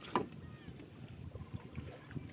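A rowboat is pushed off and turned on a river while fishing with a cast net, giving soft water sloshing and hull knocks close by, with a sharp bump near the start and voices under it.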